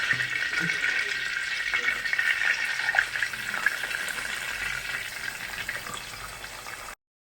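Tilapia fish fries in hot oil with curry leaves, Kerala style, producing a continuous close crackling sizzle that stops abruptly at the end.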